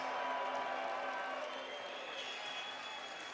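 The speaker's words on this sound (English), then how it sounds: "how about a big round of applause for these two valiant warriors?" A boxing crowd at an undercard bout applauds the two fighters, broad clapping and cheering that swells at the start and eases slightly, with a faint tone humming underneath.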